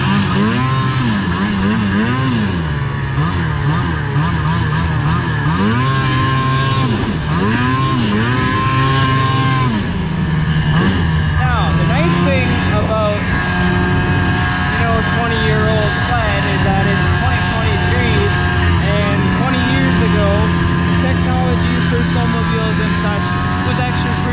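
A used snowmobile being ridden: a loud, steady engine drone with shifting revs and pitch sweeps, running continuously and close throughout, with no pauses.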